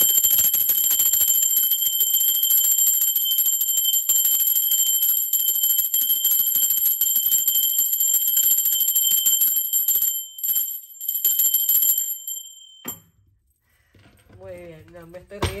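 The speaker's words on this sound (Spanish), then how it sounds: "Ahora sí, va campana para ustedes" A bell rings with a steady, sustained bright tone for several seconds, then cuts off, after which a person begins speaking.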